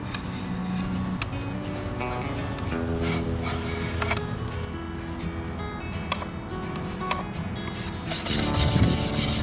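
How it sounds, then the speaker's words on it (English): A wire brush scrapes oven cleaner residue off a stripped wooden table, giving steady continuous rubbing and abrasive scratching throughout, loud and close, with a few sharper knocks and a rougher burst near the end. "Wire brush is coming in clutch."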